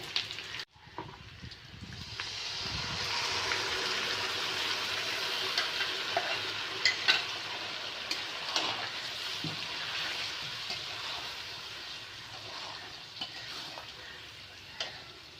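Steady sizzling of food frying in a pan, with scraping stir strokes and occasional clinks throughout, fairly close and continuous.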